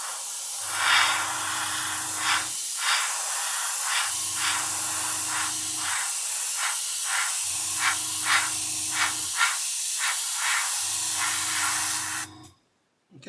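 Aerosol can of VMS No Peel primer sprayed in four separate hissing bursts, each roughly two seconds long, with a low rattling hum beneath each burst and short pauses between them, ending abruptly near the close.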